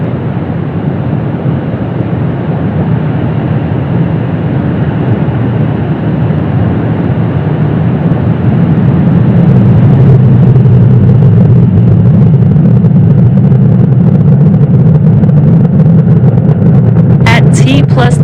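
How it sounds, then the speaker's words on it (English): Falcon 9 rocket lifting off from Space Launch Complex 40 at Cape Canaveral, Florida, carrying Starlink V2 Mini satellites: a steady, loud low roar and rumble that swells heavier partway through, with a brief crackle at the end. "Falcon 9 has successfully lifted off from Space Launch Complex 40 from Cape Canaveral, Florida"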